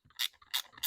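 Wrench ratcheting while snugging a lock nut on a billet brake lever of a Sur-Ron electric bike, three quick crisp clicks at an even pace, close and alone.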